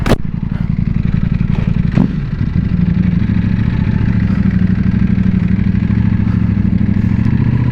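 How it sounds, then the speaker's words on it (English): A Ducati Panigale V4S ridden in race mode gives a loud, steady engine roar for the whole stretch, with a couple of sharp bursts near the start. "Oh, this Ducati is fast."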